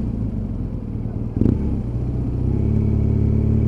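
A BMW 1200GS motorcycle engine idles with a deep, close, loud rumble, then gets a quick blip of the throttle and settles into a slightly higher steady drone.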